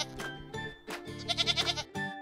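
A Nigerian Dwarf goat bleats loudly and close by, a string of wavering, nasal cries with a quick trembling flutter in the middle, heard on its own.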